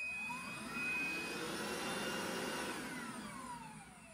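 A Conga Popstar 2900 ErgoFlex animal stick vacuum cleaner runs loudly and steadily, its motor whine swelling slightly before easing off toward the end, heard alone without talk.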